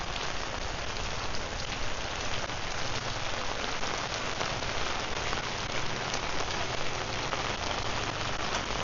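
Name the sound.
rain falling on street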